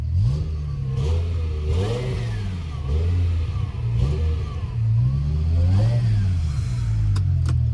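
A BMW E60 M5 V10 revs hard while driving, with repeated rising and falling throttle blips and gear changes that sound close and loud inside the car, plus a couple of sharp clicks near the end.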